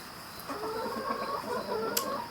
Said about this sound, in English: I never knew that I loved chickens until I had chickens